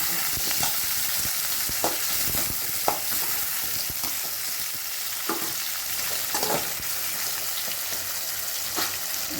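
Onions and tomatoes frying in a pan for a Tamil tamarind and field-bean curry, a steady loud sizzle broken by intermittent stirring knocks and scrapes, with no speech.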